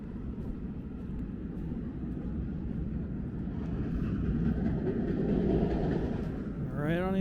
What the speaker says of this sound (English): You hear the rumble of the train.